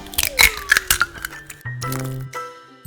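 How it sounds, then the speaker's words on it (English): In a miniature kitchen, a small egg is cracked into a bowl with a few sharp, quick taps and snaps up close. A brief low hum and faint clatter follow. "Finally, crack an egg into it."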